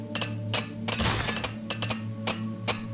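Armor shattering in Oblivion Remastered: a series of sharp clinking, glassy cracks and metallic hits, with one heavier crash in the middle, sounding close over a low game hum.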